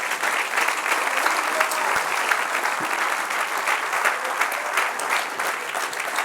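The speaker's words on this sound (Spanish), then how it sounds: "Dale un aplauso a Jesús" A congregation applauds throughout a church service, a dense continuous wash of clapping that holds at a steady level for several seconds.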